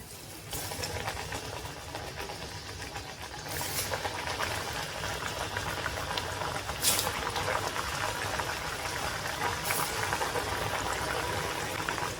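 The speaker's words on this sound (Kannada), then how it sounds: "ಫ್ಲೇಮ್ನ ಲೋವಲ್ಲಿ ಇಟ್ಕೊಂಡು ಇದನ್ನು ಚೆನ್ನಾಗಿ ಫ್ರೈ ಮಾಡ್ಕೊಂಡು ಬರೋಣ" Snacks made from jowar flour deep-fry in hot oil on a low flame, producing a dense, even bubbling sizzle that swells slightly, heard close and alone.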